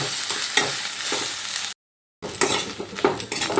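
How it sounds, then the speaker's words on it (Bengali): Cabbage frying in a pan while being stirred, with continuous sizzling and clinks of a utensil against the pan, broken by a brief total silence midway before the stirring resumes. "এবার ভালোভাবে এটা নাড়াচাড়া করতে হবে একটু শুকনো শুকনো হবে ততক্ষণ পর্যন্ত নাড়াচাড়া করে যেতে হবে"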